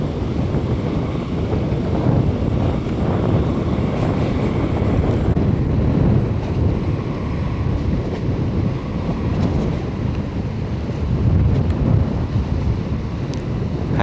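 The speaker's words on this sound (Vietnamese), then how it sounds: "Bữa nay quá trời gió rồi." Strong wind at sea, heard from a small boat near Hòn Tre, roars steadily and loudly as heavy wind buffeting on the microphone, continuous throughout with slight surges.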